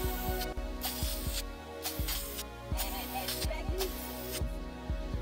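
Black paint hisses from an aerosol can in short repeated bursts as a third light coat goes onto a car rim. The hiss is soft and close, with a steady background hum underneath.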